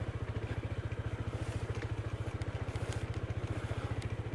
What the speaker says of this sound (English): on a Honda PCX designed for an urban commute